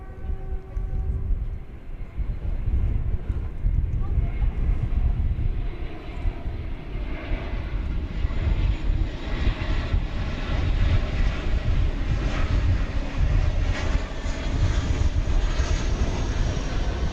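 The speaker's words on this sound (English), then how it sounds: "Global X arriving from Billings, Montana." A Global X airliner arriving at DFW Airport from Billings, Montana, its engines roaring as a steady, loud, broadband rumble that holds for the whole stretch without any voices.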